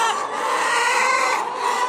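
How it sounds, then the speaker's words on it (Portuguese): Hens settling into new nests at dawn cluck in a dense, continuous chorus, close and steady, with no talking. "as galinhas aqui já estão se adaptando aos ninhos."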